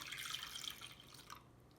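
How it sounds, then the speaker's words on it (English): A cup of cold water pours into egg batter for shrimp tempura, a faint, close trickle and splash that stops abruptly near the end. "I'm going to put the 1 cup of cold water"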